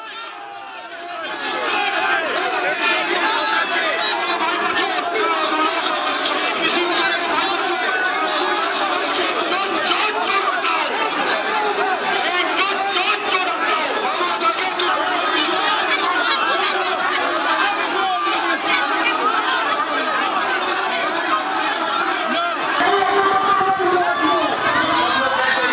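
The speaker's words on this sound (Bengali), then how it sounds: "তৃণমূল বিজেপির মধ্যে তুমুল স্লোগান" Rival Trinamool Congress and BJP supporters near a political rally in Chakraberia, Bhabanipur, Kolkata shout slogans, a dense, continuous crowd din of overlapping voices that holds steady for the whole stretch.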